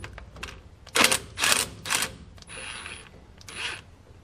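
Impact wrench breaking loose a brake caliper hose fitting on a Ford, several short sharp mechanical bursts in close succession, moderately loud and up close with no talk.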